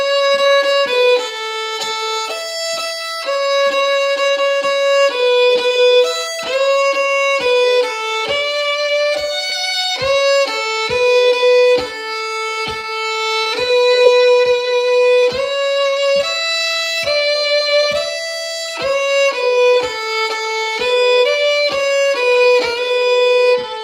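Solo fiddle plays the simple melody of the folk tune The Fox, clear bowed notes in a steady lively rhythm, close and loud with no voices throughout.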